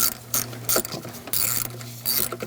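A ratchet clicks rapidly in several short bursts while snugging down the valve cover bolts on a 2006-2011 Chevrolet HHR 2.4L four-cylinder, close up and crisp with brief gaps between pulls.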